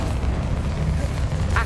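The Incendio fire spell is cast in Hogwarts Legacy: a short, dense, roaring burst of flame that fills the whole moment at steady loudness.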